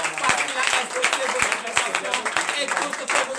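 A church congregation claps and cheers at a deliverance and prophecy night service, dense rhythmic hand claps and crowd voices mixed together, close and steady.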